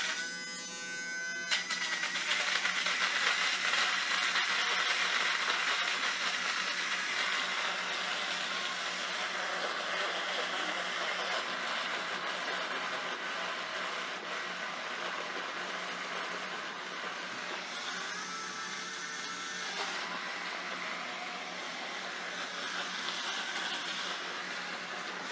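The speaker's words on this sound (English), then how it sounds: "It's the world's most powerful portable blender." A BlendJet One portable blender whirs through a protein shake with blueberry and pineapple, giving a loud, steady motor buzz that runs nearly the whole time, with a brief shift in pitch partway through and no talking.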